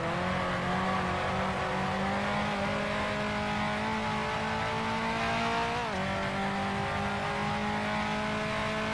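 A Ferrari Tipo 625 racing car engine in a video game drones loud and steady, its pitch climbing gradually with a brief dip as it shifts, running alone throughout.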